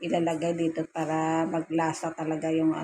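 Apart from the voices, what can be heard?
None of the usual background noises is heard.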